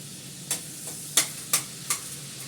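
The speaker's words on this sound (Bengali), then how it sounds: "এখানে বেগুনটা ভাজা হচ্ছে" Eggplant frying in a pan with spices such as cinnamon, cardamom and dried chilli: a steady close sizzle broken by four or five sharp scraping stirs of the spatula, with no voices.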